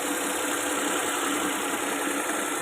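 The engine of a Maruti 800 car runs at idle, giving a constant close hum with a slight knocking vibration and no speech over it.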